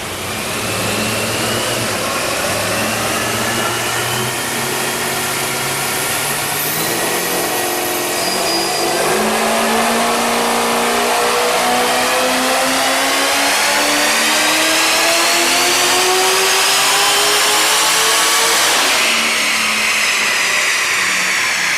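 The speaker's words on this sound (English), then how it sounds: "we're still dyno run, so the owner can see his car running on dyno" A Whipple supercharged Holden VE Maloo with a Turbo 400 transmission revs on a dyno, its loud engine pitch climbing steadily through the gears with brief drops at shifts and a supercharger whine.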